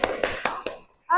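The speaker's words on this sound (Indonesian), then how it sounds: "tepuk tangan untuk kita semuanya" A few sharp hand claps from a classroom, four in an even rhythm, fading out before a voice starts speaking.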